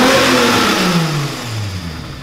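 A Volkswagen Golf VR6 engine and exhaust rev hard and loud close by, the pitch sliding downward as the revs fall back, with no voices over it.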